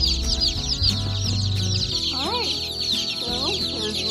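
Barred rock baby chicks in a box chirp continuously and close up, their high peeps overlapping and now and then rising into louder, drawn-out calls.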